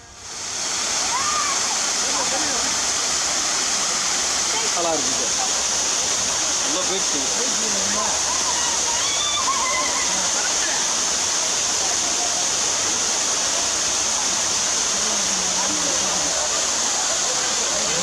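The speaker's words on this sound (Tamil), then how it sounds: "கொடைக்கானலில் புதிய சுற்றுலா தலமாக சேர்க்கப்பட்ட பெப்பர் ஃபால்ஸ்" Pepper Falls waterfall in Kodaikanal: a constant, full roar of falling water that stays loud and unbroken throughout, with faint splashing detail inside the wash.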